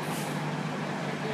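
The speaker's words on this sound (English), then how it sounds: "Bus, it's a magic bus." A Disney Magic Kingdom bus rumbles close by as a steady, loud engine drone with a faint whine, with no talking over it.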